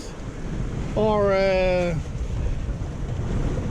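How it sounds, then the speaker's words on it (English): Wind buffets the microphone and waves roll past a sailboat at sea in a constant rushing, washing noise, while a person speaks briefly over it. "The wind is still surprisingly much on the nose, but no worries. The waves that's rolling by underneath us"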